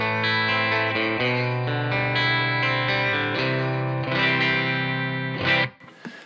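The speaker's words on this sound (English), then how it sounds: "there's a lot of drive and distortion going on in that tone" Electric guitar played through an amp with heavy drive and distortion, using a Celestion A-type impulse response with a dark mic setting; sustained saturated chords ring loud and steady for several seconds, then cut off abruptly with a short decay.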